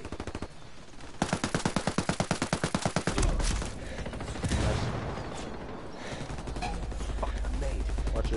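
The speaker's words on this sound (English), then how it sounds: "Taking fire!" Rapid automatic gunfire from a Ghost Recon video game, a dense burst of evenly spaced shots followed by heavier blasts and continued firing, loud and close with game sounds around it.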